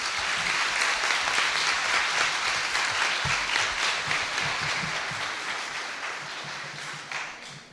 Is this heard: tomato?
no